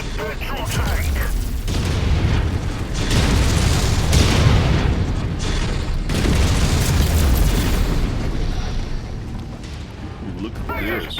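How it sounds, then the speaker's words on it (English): A petrol tank explodes in the video game Rise of Rasalhague with a loud, sustained booming roar and heavy rumbling that rolls on for around ten seconds, with brief voices at the edges. "They've blown the petrol tank!"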